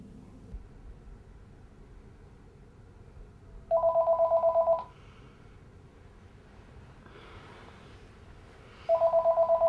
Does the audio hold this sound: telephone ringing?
yes